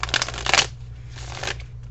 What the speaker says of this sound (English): Okay, shuffling the cards here